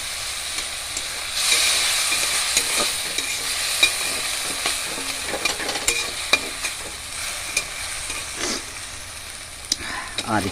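Curry sautés in a pan, giving a continuous sizzle and hiss with scattered scraping knocks from stirring throughout.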